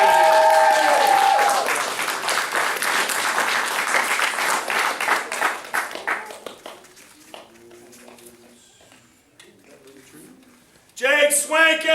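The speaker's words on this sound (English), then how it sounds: "Give them a cheer!" An audience at a family martial arts center belt ceremony in Mount Dora cheers and claps loudly, the applause fading after several seconds before a fresh burst of cheering voices at the end.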